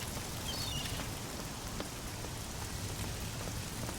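Steady rain pours throughout in the game Oblivion, a dense, even hiss of drops falling on surfaces, close and continuous with no voices.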